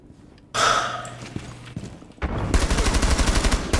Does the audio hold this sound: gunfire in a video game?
yes